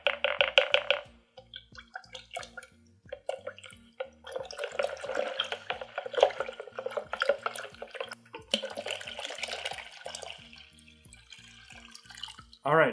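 Water poured over potted plants from a watering can, carrying a powdered beneficial-nematode mix for fungus gnat control; a steady close trickle and splash with a few pauses and shifts in flow, no talk.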